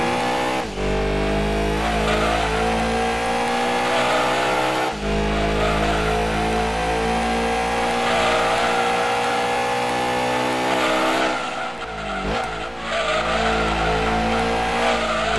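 A Toyota 2000 GT races in Gran Turismo 2: a loud, continuous engine drone that rises through the revs, with gear shifts and tire squeal. No talking.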